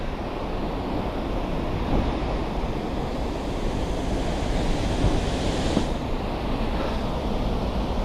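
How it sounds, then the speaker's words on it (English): The High Force waterfall roars from the base of the falls, a dense, constant rush of falling water with no pauses or breaks. "That's right at the base of the waterfall."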